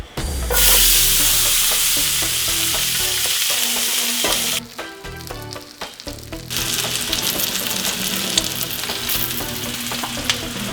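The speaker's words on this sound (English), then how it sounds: "We're gonna throw our onions in to a super hot pan, get them nice and charred real quick, make sure they blister up nicely." Onions hiss and crackle loudly in olive oil in a super hot pan, a steady, close sizzle that runs throughout with a brief dip midway, no voices present.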